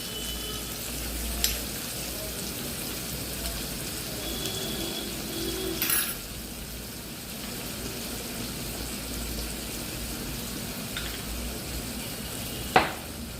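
Garlic paste hits hot oil in a pan and sizzles in a soft, steady hiss, with a few faint stirring clinks and distant birds cooing in the background.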